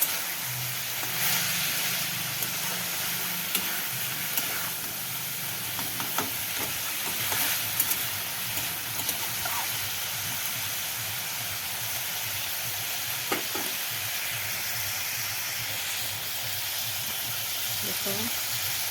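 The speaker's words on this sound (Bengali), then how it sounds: "এখন ফুলকপি ভাজা রান্না করছি" Cauliflower frying in a pan in a home kitchen, a continuous soft sizzle with occasional scraping stirs and clicks over nineteen seconds, fairly close and even, with faint background noise.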